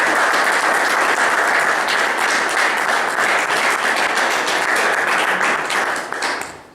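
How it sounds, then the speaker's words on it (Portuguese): Sustained, dense applause from an indoor audience at a Portuguese talk event, steady and loud throughout before fading at the very end. "Por favor, palmas para o Pedro."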